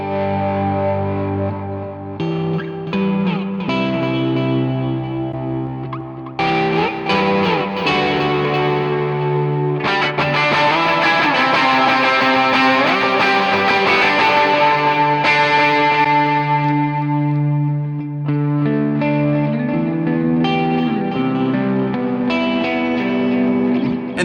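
Electric guitar played through a worship pedalboard with the compressor switched off and distortion engaged, giving loud, sustained overdriven chords and melodic lines with chorus and reverb, continuous and alone for the whole stretch.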